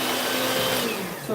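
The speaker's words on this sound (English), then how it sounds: "this time I have my super mixer" Electric stand mixer, more powerful than a KitchenAid, beating heavy olive oil lemon cake batter, giving a steady loud motor whir with a constant hum that shifts slightly near the end, no talking.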